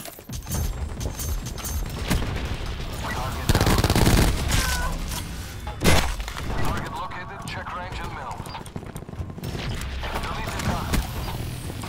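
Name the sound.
gunfire in the video game Call of Duty Black Ops 4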